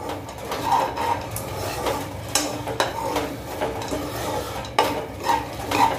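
Dry fruits being lightly roasted in a pan for maize flour laddu, close scraping stirs and soft rustling over a gentle sizzle, with several sharper strokes of the spoon against the pan.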